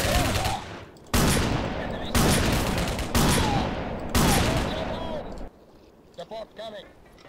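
Four heavy, booming shotgun blasts fire about one second apart, each with a long decaying roar, followed by quieter clanking and faint pings, in the video game Rogue Trooper.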